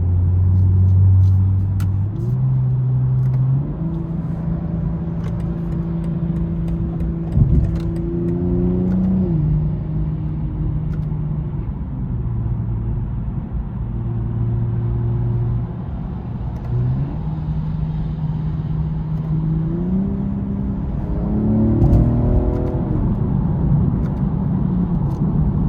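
A 2022 BMW M240i engine pulls steadily while driving, its drone rising through each gear and dropping at every shift over a long stretch, with a deep, constant rumble and no talk.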